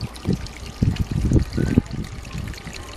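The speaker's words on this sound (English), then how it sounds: "the pond with its waterfall" A garden pond waterfall trickles close by in uneven splashing pulses of low, bubbling water, with no talking.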